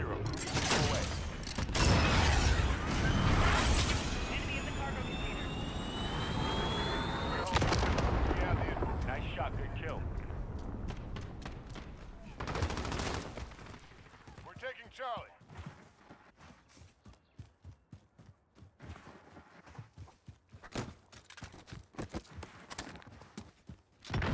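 A cruise missile strike in Call of Duty Modern Warfare hits with a loud, roaring explosive rumble that lasts about twelve seconds. It then fades into quieter clattering and scattered distant shots, with voices heard faintly.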